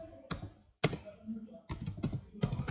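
Close computer keyboard typing comes in short bursts of rapid key clicks separated by brief pauses, recorded while coding a Huffman compression project in Python.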